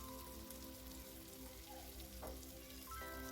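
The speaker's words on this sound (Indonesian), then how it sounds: "Sekarang kita tumis sebentar sampai" Chilies, green tomatoes and shallots stir-fry in a pan with a faint, continuous crackling sizzle and a few soft stirring sounds, quiet and steady throughout.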